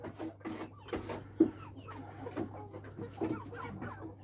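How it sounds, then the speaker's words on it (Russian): Chickens cluck in a barn where hens are kept alongside a goat, giving soft, irregular clucks and a few sharper calls over a steady low hum, fairly close and without talk. "Мы курей уже тоже держим."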